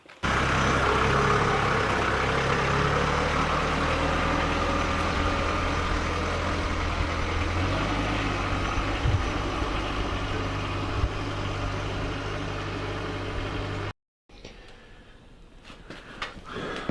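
A front end loader engine idles close by in a steady, rumbling drone that runs for about fourteen seconds before cutting off abruptly, leaving only faint knocks and ambient noise.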